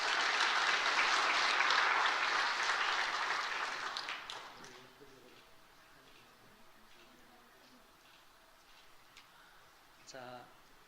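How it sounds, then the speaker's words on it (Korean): A church congregation at a Sunday worship service claps loudly to celebrate a newborn baby; the applause holds for about four seconds, then fades into quieter room sounds with faint talk and a few scattered noises. "예, 우리 박수로 축하하겠습니다."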